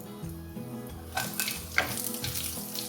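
Green onions hit a hot pan for Pakistani-style chicken chow mein, giving a steady, close sizzle of frying with a few louder crackles and stirring scrapes partway through.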